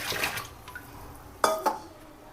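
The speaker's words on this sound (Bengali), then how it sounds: "প্রথমে আমি চিকেনটা নিয়ে এসে ধুয়ে নিচ্ছি" Raw chicken is washed in water in a pot, with sloshing water, clinks and two sharp metallic knocks against the pot.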